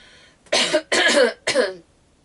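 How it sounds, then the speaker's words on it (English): Three harsh coughs in quick succession, close and loud, after a brief breathy lead-in, then quiet. "Have to cough."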